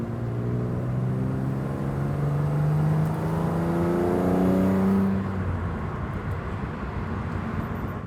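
Toyota Supra driving on a road through the Alps toward Grindelwald, Switzerland, heard as a steady engine hum with slowly rising and falling tones, shifting pitch as it accelerates, continuous and fairly close, with no talking.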